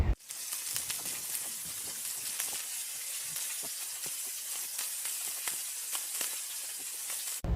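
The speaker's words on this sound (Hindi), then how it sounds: "सबसे पहले चिकन को ना तेल के अंदर फ्राई कर लिया करें अच्छी तरह से" Chicken pieces fry in hot oil with a steady, close hiss and sizzle, dotted with frequent sharp crackles and pops throughout.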